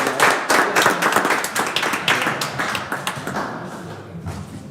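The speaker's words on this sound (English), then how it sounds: "let's give these student athletes a great big round of applause" A crowd at a school board meeting applauds student athletes, a dense burst of close hand claps that is loud at first and then thins out toward the end.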